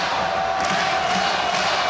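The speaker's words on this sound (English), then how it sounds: "Crowd making some noise." A college volleyball crowd at a Rainbow Warriors versus Grand Canyon match roars and cheers after back-to-back aces. The noise is steady and dense throughout, with no voices standing out.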